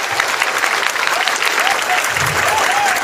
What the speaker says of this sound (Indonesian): Tepuk tangan untuk dosen, teknik, dan para orang tua selama 20 detik